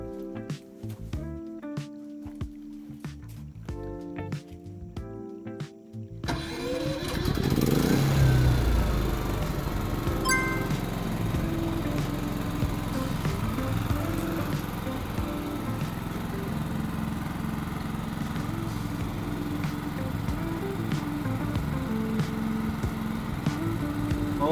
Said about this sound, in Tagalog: Dapat mabubuhay ng kusa yung ating generator.